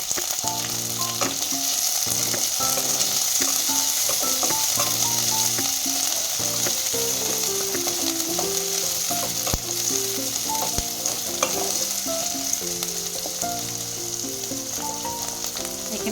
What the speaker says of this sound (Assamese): লৈ পেলাই এতিয়া মই এয়া লেটা পলুখিনি দি দিছোঁ।